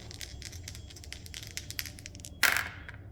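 Dice rolled for the Decision Games board wargame Hurtgen: Hell's Forest tick and rattle lightly, then clatter in one louder burst near the end.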